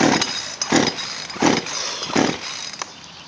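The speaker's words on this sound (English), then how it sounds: "The old chainsaw's not gonna work." An old chainsaw, brought out to cut a fallen tree, gives several rasping pull-start bursts in a quick rhythm, about one every second, fairly close, with no speech.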